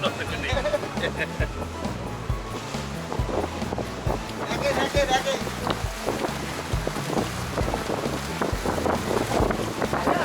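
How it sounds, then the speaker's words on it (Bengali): A motor launch's engine drones on open water off Bakkhali, West Bengal, with wind buffeting the microphone and waves splashing, while people talk throughout. "লঞ্চটাই আমাদেরকে ঘুরিয়ে দেখাবে লঞ্চে করে।"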